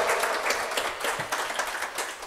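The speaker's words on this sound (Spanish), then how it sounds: "Dale un aplauso al Señor con todo tu corazón." Church congregation applauding the Lord, a continuous full burst of clapping from many hands, loud and close throughout.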